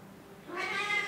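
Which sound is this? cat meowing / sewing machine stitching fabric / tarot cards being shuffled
cat meowing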